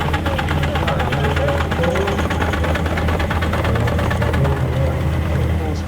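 Steam showman's road engine, a small practical-size type, running at a steam and vintage show, giving a steady close rhythmic chuffing and mechanical knock over a continuous low rumble with outdoor background noise throughout.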